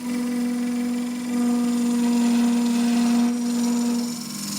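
An endgrain bowl turns on a lathe while a 1/2 inch spindle gouge cuts it, giving a steady motor hum with a continuous scraping whir of the tool against wood throughout.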